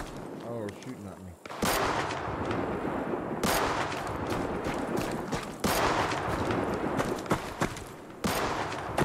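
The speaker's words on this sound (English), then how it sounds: "Oh, they're shooting at me." Gunfire in the video game Deadside cracks in bursts, several sharp loud volleys spaced a few seconds apart, with a player's voice talking between and under the shots.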